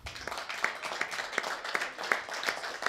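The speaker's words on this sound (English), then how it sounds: "Give him a round of applause." Light applause from a small coffee-house concert audience, a thin patter of claps with a few sharper individual hits, steady and fairly soft throughout.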